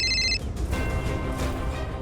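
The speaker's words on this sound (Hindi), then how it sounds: "हार्दिक चाचा का फोन।" An electronic phone ringtone in a Hindi TV drama scene trills briefly at the start, a short bright warbling ring that stops after a fraction of a second, leaving a dense background music bed.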